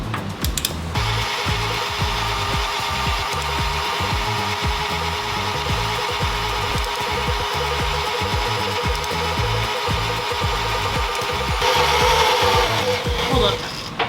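A smoking power drill whirs steadily and loudly for the whole stretch, its pitch rising and growing harsher near the end.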